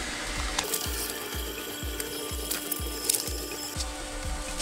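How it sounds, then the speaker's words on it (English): A Bambu P1P 3D printer unloads its filament with a steady mechanical ticking, a clunk about twice a second, close and fairly quiet over a faint hum, with no one talking. "click unload. Wait for it to do its thing, unload that filament"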